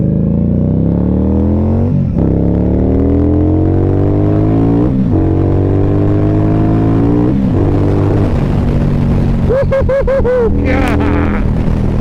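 An Indian Scout motorcycle's exhaust pipes rumble on the road, rising through several gear changes with repeated climbing revs and brief dips between shifts, loud and close, with a voice joining near the end.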